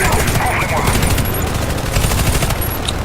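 Rapid gunfire crackles continuously in a shooter video game, dense bursts of shots sustained loudly throughout the short stretch.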